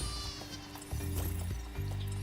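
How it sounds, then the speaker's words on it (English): Sheep in the Spyro Reignited Trilogy video game give short, buzzy bleats in quick succession, close and fairly loud over a steady background of game music and effects. "Get a sheep."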